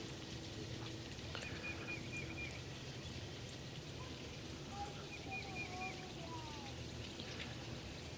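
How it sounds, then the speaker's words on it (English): Soft, steady patter of light spring rain with faint trickling, with quiet background tones and no clear talk. "And just a nice spring rain"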